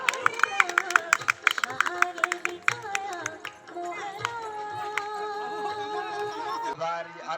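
Children and onlookers at a village Satyanarayan puja event clap in a quick rhythmic burst of sharp hand claps over the first few seconds, then fade beneath speech and background music.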